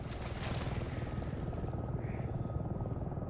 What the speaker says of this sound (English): Helicopter. There's a helicopter there.